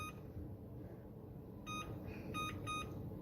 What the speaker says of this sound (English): We're gonna set our oven for bake at 225 degrees.